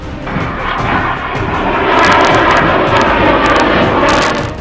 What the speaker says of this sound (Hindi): निज अद्भुत शब्द सह कारनामा देखाउथिबा सुखोई 30 फाइटर जेट